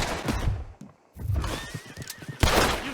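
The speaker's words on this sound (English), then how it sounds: "my horse gets shot in the crossfire" Horse in Red Dead Redemption II whinnies as it is shot in crossfire, a sharp neigh and squeal amid thuds and hoof clatter, loud and close, ending with a heavy impact.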